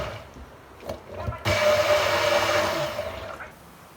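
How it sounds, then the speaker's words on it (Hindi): Kitchen blender whirring through raita ingredients, starting after a few knocks and running loud and steady for about two seconds before spinning down, close and with no talk. "तो अब इसे हम ब्लेंड कर रहे हैं"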